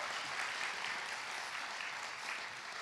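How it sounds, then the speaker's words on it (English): An audience at a nursing college pinning ceremony in South Jordan gives a round of applause, dense and even clapping filling the whole stretch at moderate distance. "So can we give them all a big round of applause?"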